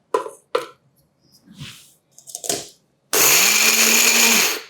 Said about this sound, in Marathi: थोडा थोडा कांदा घ्यायचा आणि हे देखील मिक्सरमध्ये फिरवून घ्यायचं